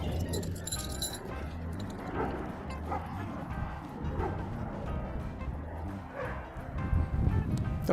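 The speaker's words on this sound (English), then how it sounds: "Don't you love just having all these barking dogs?" Several dogs bark and yip repeatedly at a campsite where tent stakes are being set, a busy overlapping chorus at medium distance, steady throughout with light rustling and jangling beneath it.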